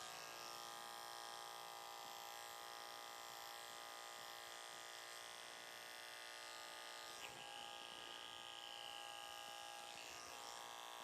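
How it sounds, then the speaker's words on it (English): Electric hair clipper fitted with a 3/8 inch blade, cutting and tapering hair around the outline of a short Princeton-style ivy league haircut, giving a steady, close, continuous motor buzz with no voices. "we're going to take the 3/8 of an inch blade and we're going to go around the outline of the haircut"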